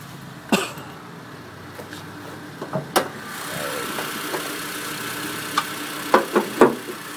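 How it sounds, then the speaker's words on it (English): A 2006 Honda Civic with a serviced 1.8 liter 16-valve single overhead cam engine idles with the hood open, a steady low rumble broken by several sharp knocks and clicks nearby. "just leave the car running right now."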